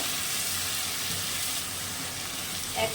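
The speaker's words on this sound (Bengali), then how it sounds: "এটা ভালো করে কষিয়ে নেব" Shrimp and taro leaves sautéing in a pan with salt, a steady close sizzle throughout with a few soft stirring scrapes near the end.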